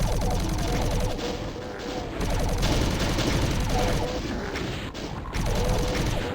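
Weapons fire in the video game Doom comes as dense, rapid volleys of loud shots and impacts, nearly continuous with brief dips between bursts.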